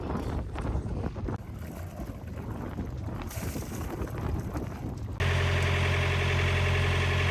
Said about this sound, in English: We got a working motor.